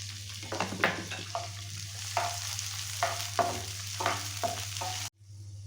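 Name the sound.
charoli, cashews and pistachios frying in ghee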